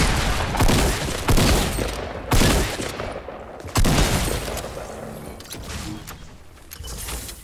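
Pistol fire in the video game Fortnite cracks out in several loud, sharp bursts, spaced a second or so apart, over dense game noise, with no talk during the shots.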